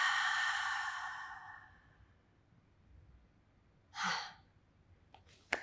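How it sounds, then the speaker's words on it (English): A long, deep exhalation during a Pilates breathing exercise fades out slowly over about two seconds, close and breathy, followed by a shorter breath and a faint click. "Exhale."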